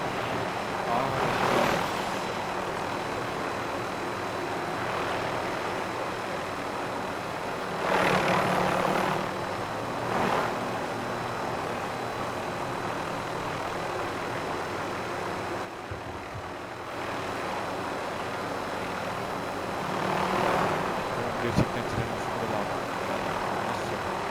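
A helicopter in a Call of Duty match drones steadily overhead, a continuous rotor and engine rumble beneath game noises and periodic bursts, loud and sustained throughout.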